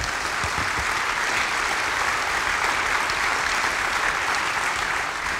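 Steady, dense audience applause after a talk on corporate courage and the climate emergency, continuous and even throughout with no voices standing out.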